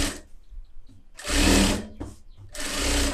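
Sewing machine stitching fabric a quarter inch from the edge, several close, loud whirring bursts of varying length with short quiet gaps between them.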